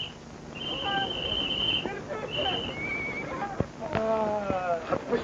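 A horse whinnies loudly and close, with a long high neigh early on and another later, amid hoof clatter, shouts and some scene noise.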